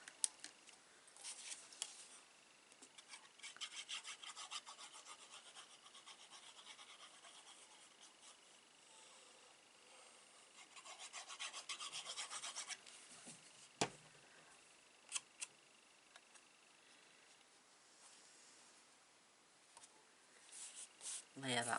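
Scissors fussy-cutting a paper card make soft, intermittent snips and rustling paper scratches, close and quiet, with a few sharper clicks.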